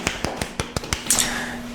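Students in a classroom clap their hands in short sharp bursts, about six distinct claps at a steady rhythm, fairly close and clear, with a faint murmur at the end.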